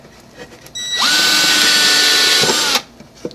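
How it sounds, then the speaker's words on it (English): A drill driver driving screws while building a pipe rack whirs up to a high, steady whine for about two seconds, then cuts off abruptly. "I'm going to use a drill driver, a screw gun"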